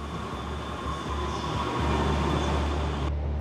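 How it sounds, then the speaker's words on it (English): Suburban RER trains rumble through the station beneath the Musée d'Orsay, giving a continuous deep roar with a steady low hum and hiss, no voices. "under the visitor's feet, Trains continue to run at Orsay."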